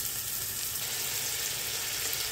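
Onions and garlic sizzle steadily in a pan for basil vegetable fried rice, a constant broadband hiss with no breaks and no voices.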